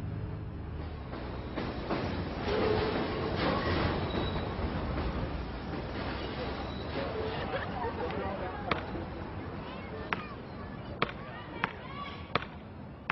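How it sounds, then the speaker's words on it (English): A subway train rolls past on nearby tracks in a city neighborhood, a steady rumble of railcars and wheels running throughout, with sharp clanks near the end, while people talk over it. "The subway right there"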